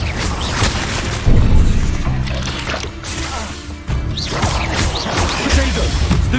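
Confringo blasting spell from Hogwarts Legacy, cast in a dark magic fight: loud, dense explosive crashes and booming blasts with thuds, continuing over several seconds amid busy combat noise.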